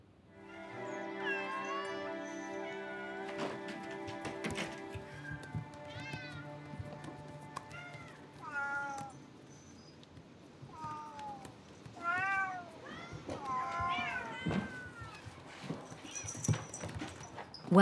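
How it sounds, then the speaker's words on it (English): A kitten in a Tokyo cat cafe gives repeated high, thin meows scattered across the scene, some soft and some sharper, with light clattering and thumps from the room around it. "Kurumi the kitten is kept away from the frenzy."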